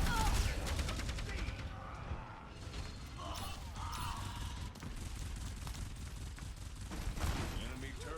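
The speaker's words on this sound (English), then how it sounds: "Enemy turret here" Enemy turret firing in Overwatch 2, rapid clattering bursts of game gunfire mixed with other combat noise, continuous and fairly loud with a voice talking over it.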